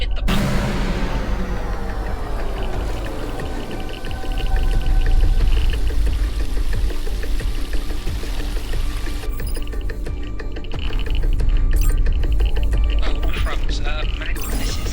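A reactor coolant system comes back online in the video game The Muller-Powell Principle: a continuous pouring, rushing flow with mechanical creaks and ratcheting clanks layered over it. The flow swells midway and keeps running steadily throughout.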